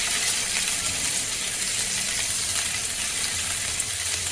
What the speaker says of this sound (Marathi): एक उभा चिरलेला कांदा घेतलेला आहे, तो आपण परतून घ्यायचा आहे